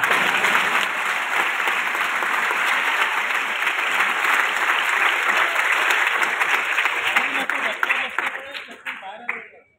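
Audience clapping at a political speech, a dense crowd applause holding steady for several seconds before thinning out and fading toward the end.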